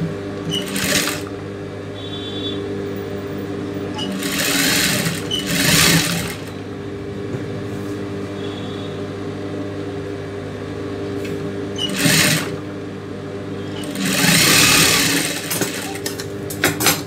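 Domestic sewing machine stitching a child's silk skirt, its motor whirring in several loud bursts of rapid needle chatter separated by quieter hum and pauses.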